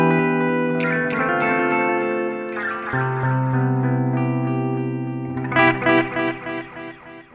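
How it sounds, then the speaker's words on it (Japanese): A BOSS DD-20 Giga Delay pedal in smooth mode plays a guitar line, each note trailing a soft, reverb-like wash of repeats that blurs into a wide, spacious tail, with a brighter strummed burst near the end. "スムースというモードにするとディレイ音にですね空間的な広がりを持たせてより自然な残響を作り出すディレイ"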